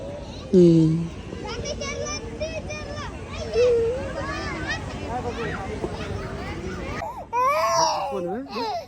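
A frightened young child cries in rising, wavering wails amid other children's voices and chatter, loud and close, with a fresh burst of crying near the end.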